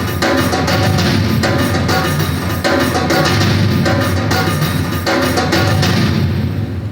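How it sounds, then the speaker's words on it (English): Orchestral percussion from a Yamaha Genos 2 keyboard. It is a dense, loud, steady rhythm of big drum and cymbal hits about every second, with a wide reverb wash and no voice over it. "So if I only start the orchestral percussion,"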